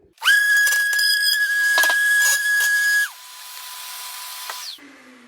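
Disc sander with an 80-grit disc smoothing a worktop joint, a loud high whine with scraping bursts that drops in pitch as the tool spins down, then falls silent.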